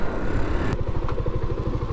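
A 40-year-old Riva scooter running on a long ride, its small engine putting out a steady, rapid mechanical putter with rhythmic low thumps, loud and close, with a brief sharp click partway through and no talking.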